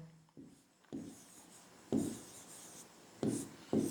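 Numbers are written by hand in a few short, scratchy strokes, each a brief rubbing burst with quiet gaps between. The strokes are close up and fairly soft.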